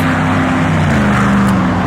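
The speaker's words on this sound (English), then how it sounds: "The cars are loud." A loud, steady roar of car engines rumbles close by throughout, with a humming drone that shifts slightly as vehicles pass.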